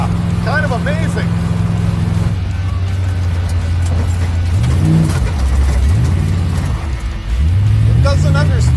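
A car driven hard on a track during a handling test, its engine roaring and revving steadily with pitch rising and falling through corners, while people talk and react over the noise throughout.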